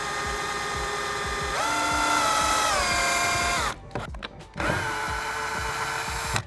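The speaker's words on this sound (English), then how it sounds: "And we're gonna drill some pilot holes." A power drill boring pilot holes for DIY acoustic panels runs steadily with a high whine, its pitch shifting under load, stops briefly amid a few clicks, then starts up again.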